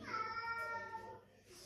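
A house cat gives a single drawn-out grumbling meow, close but fairly quiet, with a faint murmur of room noise around it.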